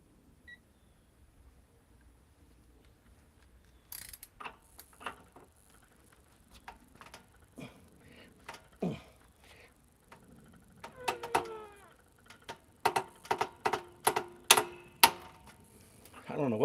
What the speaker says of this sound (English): it clicked at 200 foot-pounds on the torque wrench